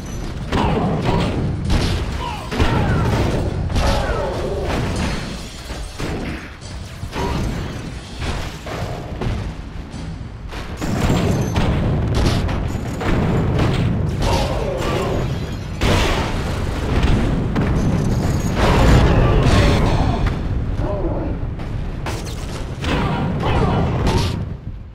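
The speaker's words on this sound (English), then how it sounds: "they want us to blow up this tower" Repeated booming explosions from The Incredible Hulk video game as a tower is blown up, a dense, loud run of blasts and rumbling impacts lasting throughout with no clear pauses.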